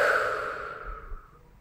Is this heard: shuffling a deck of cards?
no